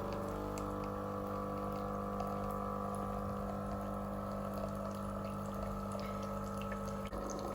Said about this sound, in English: And now I'm going to replace my jug under the spout and run the cleaning cycle again.